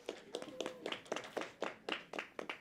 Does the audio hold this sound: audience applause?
yes